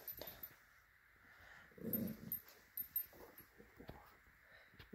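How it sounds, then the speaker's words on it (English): A dog lets out a soft, low growl near the middle, along with faint whimpers and rustling close by in a quiet indoor room. "Even a little growl."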